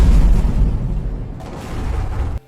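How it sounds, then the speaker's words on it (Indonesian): A deep, sustained explosion rumble from a royal-court Korean drama, set at a king's birthday celebration, loud and heavy for over two seconds before cutting off abruptly. "ada sebuah ledakan di tempat ulang tahun raja, lalu Ian pergi ke sana untuk ngecek keadaan"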